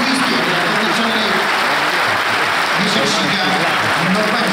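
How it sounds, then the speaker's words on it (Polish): Loud, sustained applause from an audience at a Polish newspaper's anniversary gala, a dense wash of clapping filling the hall from start to finish. "Dziękujemy, wielkie brawa."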